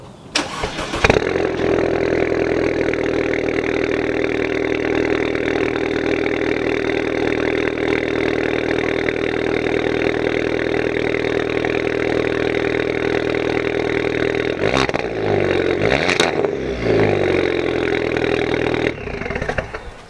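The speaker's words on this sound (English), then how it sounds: "I'm gonna get him to record a cold start" A 2-litre turbo Audi A5 with a loud tuned exhaust cold starts: a quick starter crank, then a steady, booming idle close by. A couple of rough revs surge near the end.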